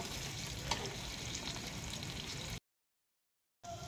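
Chili frying in a pan in a village kitchen gives a steady, close hiss and sizzle. The sound cuts out briefly and then resumes, and no voices are heard.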